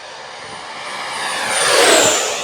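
E-flite F-16 Thunderbirds 80mm electric ducted-fan RC jet roaring past at full speed, a loud whooshing whine that builds, peaks and then fades slightly as it passes close by.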